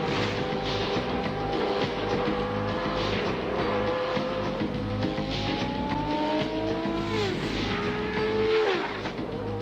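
A Formula One race car corners at high speed, its loud engine whine sweeping up and down through the gears amid constant racing noise, with a sharp pitch shift near the end.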